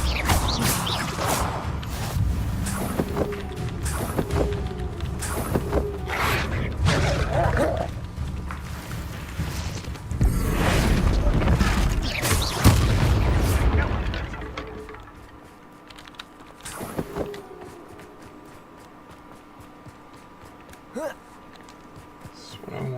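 Bombarda spell blasts in Hogwarts Legacy, with several sharp crashing bursts and a heavy rumbling impact near the middle, followed by quieter game ambience and scattered thuds; a player voice can be heard.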